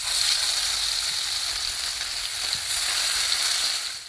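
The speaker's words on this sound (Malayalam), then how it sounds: "മീനിതാ പൊരിക്കാൻ വെച്ചിട്ടുണ്ട് കേട്ടോ." Fish sizzles as it fries in a pan, a steady, close hiss and crackle that continues without break and fades out at the end.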